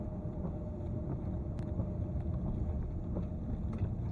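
A Range Rover L405 on the move, with a suspected fault at the left wheel, gives off a steady low rumble and hum from inside the cabin that continues unbroken with faint wind noise.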